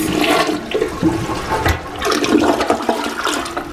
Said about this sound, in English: Let's try the flush.